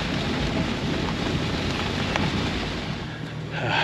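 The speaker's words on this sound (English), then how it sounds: "It's raining so hard." Heavy monsoon rain pours steadily outdoors, a dense, loud, continuous hiss of drops with no pauses, thunder rumbling low beneath it.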